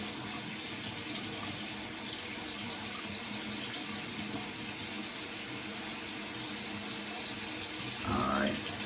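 Hot water runs steadily from a tap in a constant loud splashing rush that goes on the whole time, with a brief extra gush of water near the end.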